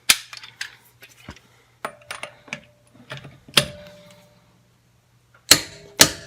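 Cordless high-torque impact wrench tightening a wheel nut, heard as a few sharp bursts of hammering with separate clicks and handling knocks between them, then two loud final rattling blasts near the end.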